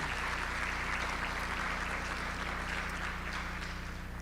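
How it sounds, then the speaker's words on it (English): Steady applause from an audience at a National Honor Society ceremony fills the room, a dense even wash of clapping at moderate volume with no talking. "please give a round of applause for Ms. Carolyn Walling."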